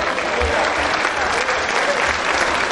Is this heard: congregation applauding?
yes